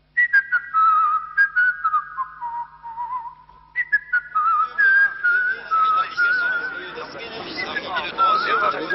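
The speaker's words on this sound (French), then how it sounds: "Aujourd'hui, ça se siffle." Whistling rises at a French presidential campaign rally in 1988: shrill, wavering tones near and loud, briefly dipping before the crowd's whistles swell again over a growing hubbub.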